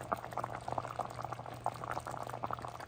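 Potatoes simmering on low in liquid in a lidded pot, a soft continuous bubbling with small irregular pops, quiet and close.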